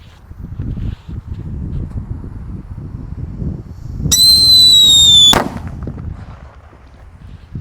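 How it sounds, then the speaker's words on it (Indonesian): A shrill whistling shriek rises for about a second and ends in a sharp bang as a firecracker explodes inside a PVC pipe, over a steady low outdoor rumble. "di sini ada mercon Blackbuster. Kita nyalakan, kita masukkan ke dalam"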